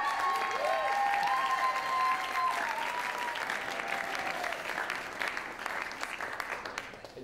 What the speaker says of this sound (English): The noise that you heard is nothing but love and nothing but respect